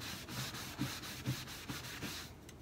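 A folded rag pad rubbing wax across a wooden china cabinet, a soft continuous swishing with periodic stroke accents, close and alone.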